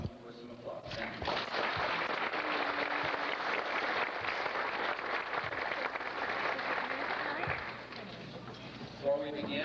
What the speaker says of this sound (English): Now welcome them with some applause